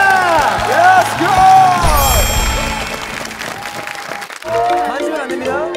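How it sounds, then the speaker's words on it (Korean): Studio audience applause and cheering on a Korean TV talent show, clapping and whoops swelling then easing, mixed with loud voices and music-like tones, people talking over it throughout. "두 분께 큰 박수 부탁드립니다"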